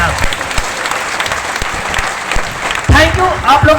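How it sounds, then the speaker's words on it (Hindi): Loud audience applause at a business meeting fills the whole stretch, dense and steady, with a voice cutting in near the end over the clapping. "दोनों हाथ उठा के एक बार जबरदस्त ताली बजाने के साथ"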